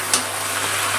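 Malabar spinach fries with a hilsa fish head, spices and vegetables in a pan, giving a brief, steady close-up sizzle with a faint stirring scrape.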